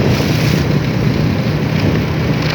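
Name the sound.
strong wind blowing during storm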